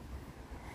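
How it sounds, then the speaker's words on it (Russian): Strong autumn wind blows outdoors across a garden plot in Germany, a low, rumbling, gusty buffeting on the microphone, fairly faint and continuous. "Какой ветер у нас."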